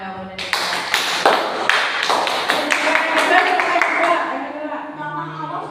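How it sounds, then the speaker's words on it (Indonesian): Students clap together in a classroom group counseling session, a short burst of sharp, fairly close hand claps lasting a few seconds before fading. "Jadi kita kasih tepuk tangan dahulu"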